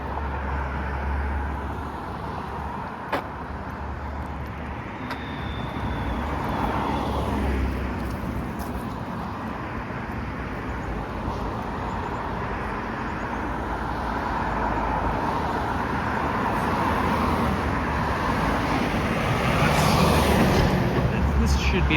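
Cars pass on Sheppard Avenue West in North York's Downsview neighbourhood, heard as a steady roadway rumble that swells gently toward the end, with some wind noise over it.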